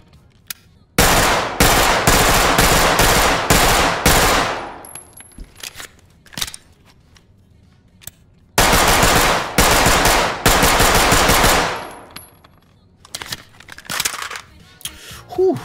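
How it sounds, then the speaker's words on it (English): Suppressed MP9 fire in the tactical shooter Ready Or Not: two long sustained bursts of rapid, crackly automatic shots, each a few seconds long, followed by scattered single clacks and mechanical handling noises. "The first thing that we got here is the MP9, and this is the suppressed version."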